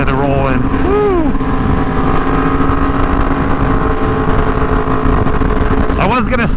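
Loud motorcycles roll past during a group ride with an Aprilia Tuono V4 Factory, Yamaha R1, BMW S1000RR and M1000RR, a continuous engine drone with a rising whine near the end, under heavy wind noise and a voice.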